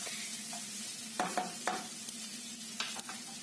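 Chopped onion frying in a pan with a steady sizzle, while a spoon stirs it in several distinct scraping bursts. The sound is close and carries no speech.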